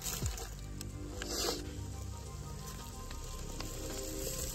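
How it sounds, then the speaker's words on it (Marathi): Cubes of paneer sizzle and fry in spice masala in a pan over an outdoor wood-fired clay stove by a riverside, a steady close crackle with occasional stirring scrapes and no talk. "आता हे जे पनीर आहेत ना मस्त परतून घ्यायचे आपल्या मसाल्यामध्ये"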